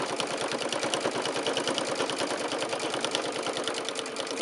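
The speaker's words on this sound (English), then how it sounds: "we're quilting our bag, as it were. Right over on that seam." A sewing machine quilts a lined fabric tote bag along a seam, giving a steady, close, rapid mechanical stitching patter throughout with no talking.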